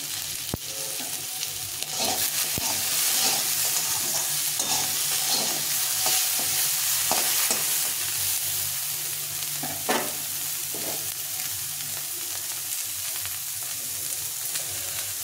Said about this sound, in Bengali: গাজরটা একটু নেড়ে চেড়ে